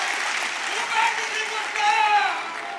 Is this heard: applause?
yes